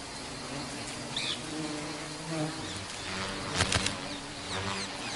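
Giant honey bees swarming bombax flowers while gathering nectar outdoors, a dense continuous buzzing hum with individual insects passing close now and then.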